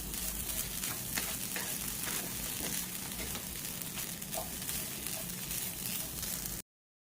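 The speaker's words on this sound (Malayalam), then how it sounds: "നല്ലപോലെ വറുത്തെടുക്കാം" Spices, fennel seed, kasuri methi and grated coconut dry-roasting in a pan over a low flame for an old-style Malayalam fish curry, giving a steady soft sizzle and rustle throughout, with no voices, before cutting off abruptly at the end.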